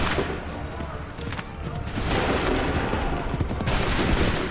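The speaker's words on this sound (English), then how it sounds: "Make ready. Shoot." A ragged musket volley crackles and booms on command in Assassin's Creed 3, a dense burst of overlapping shots rolling into sustained loud gunfire for several seconds, with shouted voices mixed in.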